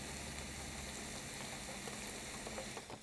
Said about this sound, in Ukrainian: ви можете послухати звук. Того, як шкварчать печериці.